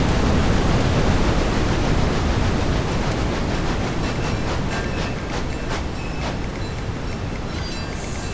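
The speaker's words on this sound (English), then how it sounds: "It's the waterfall." Steady broadband rush of a waterfall at Misty Creek in a cozy train video game, a constant loud wash of water that stays even throughout, with faint chimes and tones flickering above it.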